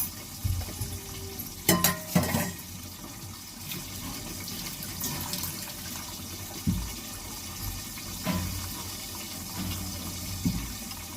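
Water is poured onto asafoetida and stirred in a small container: splashy pouring and clinking bursts early on, then quieter intermittent knocks and sloshes over a steady background hiss.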